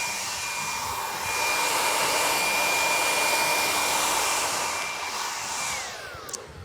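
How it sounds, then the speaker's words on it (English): A hair dryer on medium heat blowing out the crown of a haircut in a barbershop, a loud steady whooshing roar that swells slightly as it moves near, then eases off, with no talk. "Blow dry the crown out."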